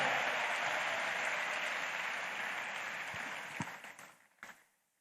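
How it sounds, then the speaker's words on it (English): Audience applause at a skill-up graduation ceremony in Imo, a dense steady clapping that fills the room, gradually thinning out and fading with a few last scattered claps near the end. "Keep clapping."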